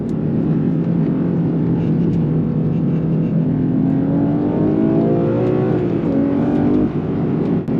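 A Porsche 911 Turbo S engine pulls hard under full throttle, its loud, steady drone rising in pitch as it climbs through a gear, heard from inside the car with no talking.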